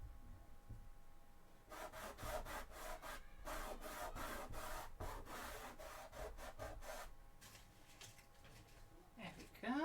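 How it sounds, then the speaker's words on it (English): Cosplay armor pieces for a Sisters of Battle outfit from Warhammer 40k are sanded by hand, with a quiet run of steady back-and-forth rasping strokes in an even rhythm, close up and fairly soft. "I should just hand sand these instead of using my Dremel"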